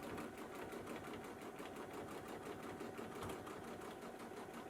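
A sewing machine quilting stitches chatters quickly and rhythmically in a steady run of rapid needle strokes, faint and close with no voices.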